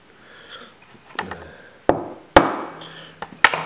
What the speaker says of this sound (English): I'm gonna use the chisel. I'm gonna go a little bit deeper.